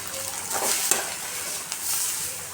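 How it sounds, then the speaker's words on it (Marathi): Half a kilo of grated carrots roast in a little ghee in a kadhai for gajar halwa, giving a steady close sizzle broken by brief scraping stirs against the pan. "तर गाजर आहे ना, थोडंसं तूप टाकून आधी भाजून घेतले."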